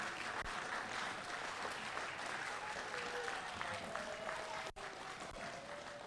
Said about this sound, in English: So round of applause for the teachers, the staff, the TAs